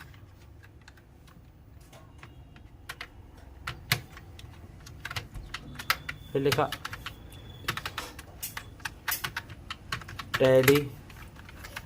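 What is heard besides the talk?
typing on a computer keyboard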